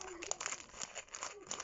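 Scissors cutting into plastic packaging, faint close crinkling and crackling with small snips over a short stretch.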